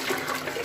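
Hot water rushing and draining away down a drain, a steady broadband gurgling wash that stays continuous and fairly loud throughout the short moment.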